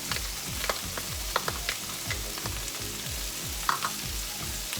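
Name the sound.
garlic frying in a pan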